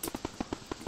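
A Roblox Bloxburg firework crackling in a quick run of small sharp pops, evenly spaced and fairly faint, with no talk over it.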